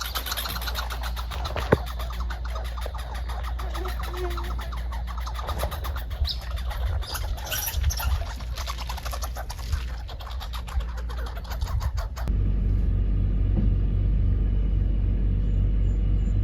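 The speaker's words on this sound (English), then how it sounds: "I'm going to continue driving." A steady car interior rumble while driving through wilderness near Mount Kineo, with a low engine drone throughout, occasional bird chirps and small knocks, and the road noise swelling louder near the end; no one speaks.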